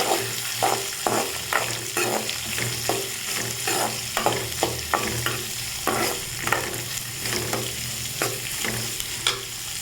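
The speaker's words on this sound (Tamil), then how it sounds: "இப்போது நம்ம வெங்காயம் சேர்த்துக்கலாம் வெங்காயத்தை சேர்த்து நல்லா வதக்கிக்கலாம்" Onions frying in oil in a pan for a Tirunelveli-style elephant yam tamarind curry. A loud, continuous sizzle runs under regular rhythmic scraping strokes of a stirring spoon, close up, with no voices.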